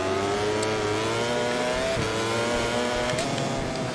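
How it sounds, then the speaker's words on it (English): Motorcycle engines roar at the start of a MotoGP 24 race, with a factory Ducati and a Yamaha among the pack, revving loudly and continuously with rising and falling pitch sweeps as the bikes accelerate away together. "Bagnaia got a blinding start on that factory Ducati"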